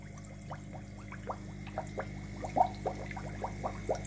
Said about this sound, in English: there's more noise coming from the bubbles itself